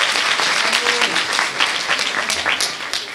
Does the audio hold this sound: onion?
no